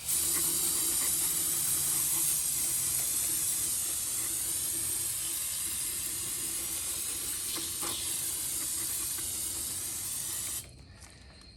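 A steady, loud hiss of aerosol cleaner spraying onto a Nissan 350Z rear differential runs for about ten seconds without a break, then cuts off sharply.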